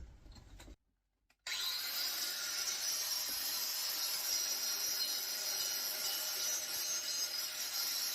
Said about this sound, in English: So what I want to do here is just put a grinder on it gently and see if it's aluminium or if it's copper.